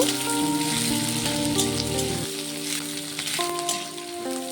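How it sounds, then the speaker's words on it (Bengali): Black cumin seeds tempering in hot mustard oil in a pan give a steady close sizzle and crackle, with tonal music playing underneath throughout. "রান্নাটি সর্ষের তেলেই করছি দিয়ে দেবো কালো জিরে ফোড়ন"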